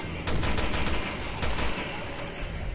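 Gunfire in the survival horror game Resident Evil Revelations 2: loud, dense rattling shots with a few sharper cracks standing out, continuous and close throughout.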